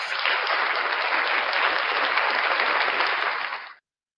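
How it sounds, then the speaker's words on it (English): An audience at a live Saturday evening show bursts into sustained, even clapping, full and steady before cutting off sharply near the end. "A lot of applause for you guys"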